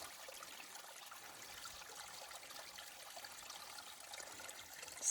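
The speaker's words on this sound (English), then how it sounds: "came upon this little stream. It's coming right through the trail." Small stream running right across a hiking trail on the Appalachian Trail, a soft steady trickle and babble of water, faint and continuous with no voices.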